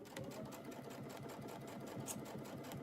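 A sewing machine stitches a log cabin quilt practice panel with ruler work, a quiet, even, fast mechanical whirr that holds steady throughout.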